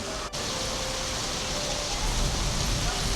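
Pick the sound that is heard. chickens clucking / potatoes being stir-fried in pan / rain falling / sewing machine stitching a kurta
rain falling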